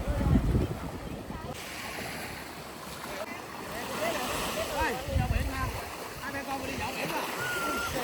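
Waves wash onto Starfish Beach on Phu Quoc, Vietnam, a steady surf hiss with gusty wind buffeting the microphone and the odd splash, heard close by at the shoreline.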